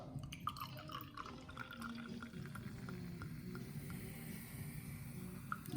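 Champagne pours into a cocktail glass over elderflower liqueur, a soft fizzing trickle with faint bubbling and small drips, quiet and close throughout.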